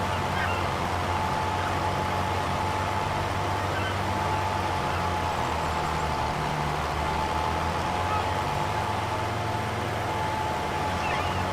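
A vehicle engine held at high revs in manual gears, a loud, steady drone with a constant pitch that runs without a break, heard close up and with no talk over it.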